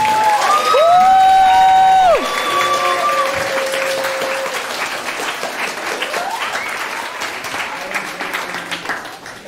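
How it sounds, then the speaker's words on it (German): A youth hackathon audience in Hamburg claps for the participants, loud sustained applause with cheering and a few whistles that fades slowly. "diesen ganzen Teilnehmenden einen schönen großen Applaus geben"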